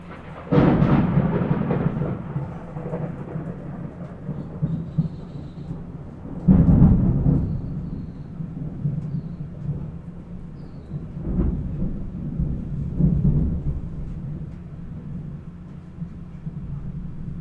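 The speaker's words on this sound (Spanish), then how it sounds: "Bueno, está tronando" Thunder booms during a thunderstorm, a sharp crack followed by long low rumbles, with further rolling peals every few seconds over a steady background wash.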